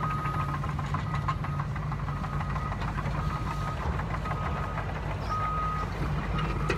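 Heavy construction machines work on a site, a deep rumbling engine drone running throughout with repeated reversing beeps chirping over it, fairly loud and steady.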